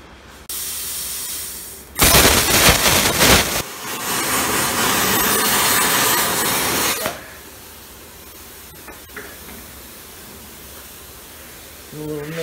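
A Forney Easy Weld 251 plasma cutter slicing through a plastic wheel, loud hissing, rushing bursts that start abruptly, roar for a few seconds, then settle into a steadier blast before cutting off to quieter background.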